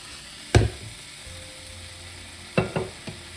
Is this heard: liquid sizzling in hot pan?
yes